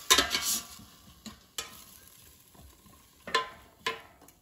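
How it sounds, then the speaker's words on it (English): Frozen artichoke hearts tossed in a pulled-out air fryer basket: a few sharp, close rattling scrapes and clatters separated by quiet gaps, with no talking. "I'm just going to mix the artichokes so they cook evenly"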